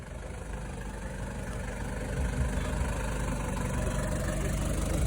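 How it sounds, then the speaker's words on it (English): A Toyota Hiace turbo diesel van idles nearby, giving a steady, loud low rumble with a faint knocking texture that grows slightly louder after two seconds and continues throughout. "this is a turbo diesel as well, which is so sick"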